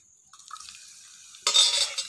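Garlic and fenugreek seeds drop into hot mustard oil for a tadka, bursting into a sudden loud sizzle after a quiet moment of faint stirring and clinks.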